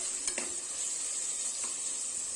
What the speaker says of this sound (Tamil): தக்காளி சேர்த்துட்டு நல்லா வதக்கி விடணும்.